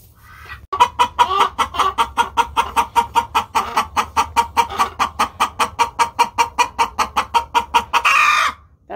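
A hen cackles loudly and close up in a long run of rapid, evenly spaced squawks, one after another, for several seconds before it stops abruptly.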